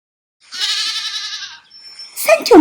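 A goat gives one clear, wavering bleat up close, followed by a short rustle, with no talking.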